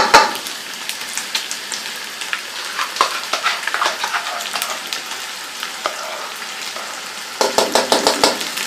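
Chicken fries in ghee with yogurt in a pot, a loud close sizzle crackling with bursts and spatters, stirred with scraping clatter and a dense flurry of spoon strikes at the end.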